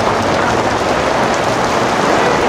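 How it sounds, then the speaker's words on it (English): Steady rain pours down in a dense, even hiss, loud and close throughout with no break. "Oh yeah, it's raining."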